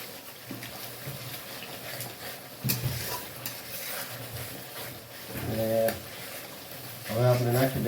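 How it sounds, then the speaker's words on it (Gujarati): Garlic and onion fry in a pan for pav bhaji, browning slowly, with a soft steady sizzle under repeated scraping stirs of a spoon on the pan. Someone talks over the cooking now and then. "આપણે લસણ ડુંગળી બ્રાઉન ધીમે ધીમે થવા માંડી છે"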